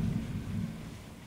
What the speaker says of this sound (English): Boy, this storm